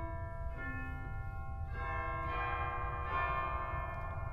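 Chime stop of a hybrid pipe and digital church organ rings a short run of bright, sustained bell-like notes, each struck tone overlapping the last, alone and moderately quiet.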